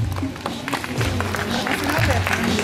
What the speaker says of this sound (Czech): Poprosíme potleska